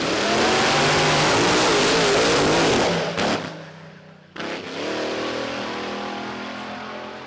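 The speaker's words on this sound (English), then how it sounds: "Jamie out of the throttle there momentarily at around the 330 foot mark. And the car not leaving the start line as well as he probably would have liked." A drag racing car at the 2024 NSW Championship Series roars hard at full throttle, cuts out abruptly, then bursts back into a loud, fading howl. Nobody talks over it.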